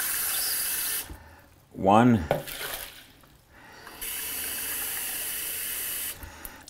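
Tap water runs through a faucet-mounted water filter in a home kitchen cooking segment, a steady hiss that stops briefly while someone speaks a word, then resumes for a couple of seconds.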